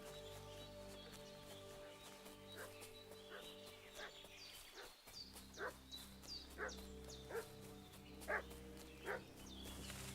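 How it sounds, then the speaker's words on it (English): A dog barks in the medieval video game Kingdom Come: Deliverance II. The barks are steady and evenly spaced, somewhat distant, over a soft, droning game soundscape with no talking. "What's that dog making such a fuss about?"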